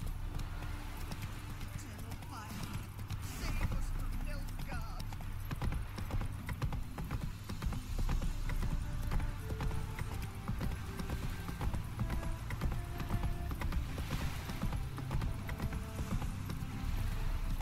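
Horse galloping in the video game The Witcher 3, a steady run of hoofbeats with rattling tack under continuous game sound and a voice talking over it.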